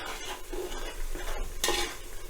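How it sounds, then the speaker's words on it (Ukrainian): Onion sizzles and crackles in a pan while being stirred, with scraping and clinking of a utensil, and one louder burst of hissing near the end. "Цибуля трохи обсмажилась."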